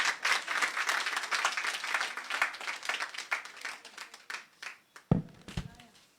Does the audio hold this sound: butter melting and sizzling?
no